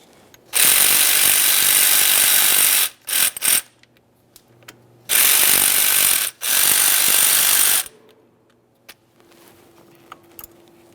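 A power tool loosens a bolt holding a bracket on a 2011-2021 Jeep Grand Cherokee's air suspension compressor, running in two loud sustained bursts with short stutters between them, then quiet clicks and rattles of parts being handled.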